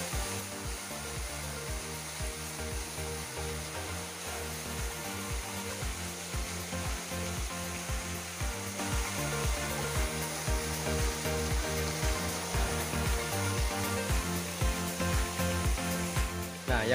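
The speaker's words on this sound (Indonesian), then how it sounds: "di sini tidak hanya ada satu air terjun, melainkan ada 7 air terjun sekaligus" Water rushes without pause at the Melati waterfall in Wonogiri, where seven falls drop together. The roar is steady and fairly loud and grows a little fuller in the second half.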